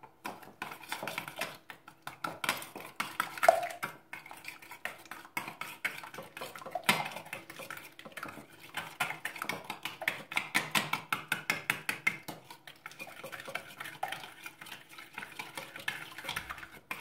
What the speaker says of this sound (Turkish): Bunu bir karıştıralım.